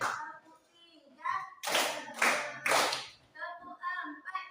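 A classroom of children claps in rhythm during a teacher-led counting clap routine, with two loud bursts of claps in quick succession between stretches of talking.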